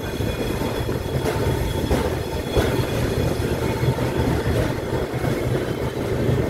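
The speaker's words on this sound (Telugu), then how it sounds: "సంబల్పూర్ నాగవల్లి ఎక్స్ప్రెస్ అండి" Sambalpur Nagavalli Express passenger train rolling past, a continuous loud rumble of wagons with rhythmic wheel clatter on the rails and occasional squeal, near and steady throughout.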